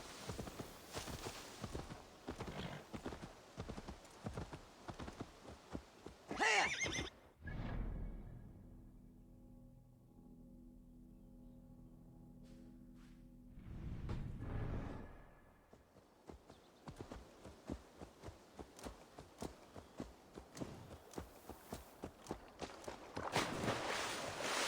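Hooves of a horse in Assassin's Creed Valhalla, rhythmic clip-clop steps at a steady gait that break off for a quiet pause mid-way and then resume at the same pace, with no clear neigh.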